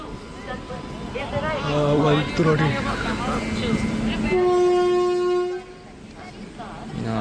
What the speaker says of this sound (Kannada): ಟ್ರೈನ್ ಬರ್ತಿದೆ ಸ್ವಲ್ಪ ಸ್ಲೋನೇ ಹೊಂಟಿದ್ದೇನೆ